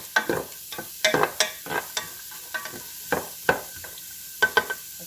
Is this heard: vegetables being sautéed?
yes